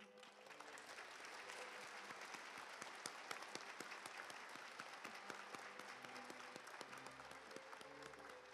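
Applause at a Kanagawa University graduation and degree conferral ceremony as the undergraduate representative is welcomed, a large hall full of steady, even clapping that holds throughout at moderate distance, with faint background music tones.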